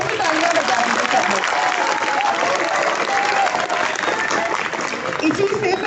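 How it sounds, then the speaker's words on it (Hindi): An audience at a school book-corner inauguration claps loudly. The applause is dense and continuous, holds at an even level for about six seconds, and has a faint crowd murmur in it. "तो एक बार उनके लिए जोर से तालियां बजा दीजिए सब"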